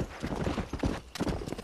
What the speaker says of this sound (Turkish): Çok yavaş sürüyorsun şu atı